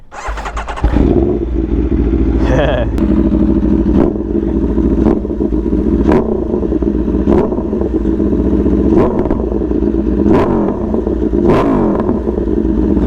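An Aprilia Tuono V4 motorcycle with an aftermarket exhaust fires up and idles with a loud, raspy exhaust, punctuated by several sharp throttle blips that rise and fall roughly every second or two.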